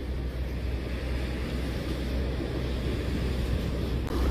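Heavy sea waves crash against the rocks on Oryukdo lighthouse island in Busan, a continuous low, rumbling surge mixed with wind buffeting close by.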